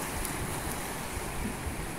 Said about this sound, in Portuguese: Uma cachoeira onde as suas águas, elas finalizam aqui no mar